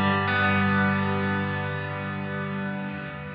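Guitar through the Line 6 HX Effects Searchlights ambient effect, a sustained shimmering wash of layered tones with a very long, haunting decay that holds steady and fades slowly, heard alone.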